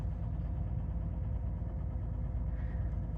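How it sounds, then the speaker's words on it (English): A 1980s Bentley Eight engine idles steadily up close with a low, even rumble and a faint regular tapping from the engine, no voices over it. "There's a slight tapping noise from the engine."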